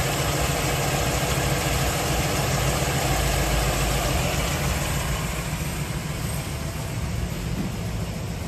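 A 1971 Chevy Impala convertible's engine idles steadily and loudly with a dense, even rumble; the start itself is not distinct.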